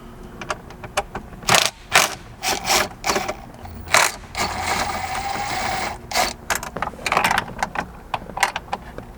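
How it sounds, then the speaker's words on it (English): A 10mm socket on a ratchet loosening dash bolts in a Toyota Tundra, rapid close clicking bursts of ratcheting broken by short pauses and a longer rattling stretch, with no voices. "Then you're just going to need a 10mm socket to remove the two bolts you can see here"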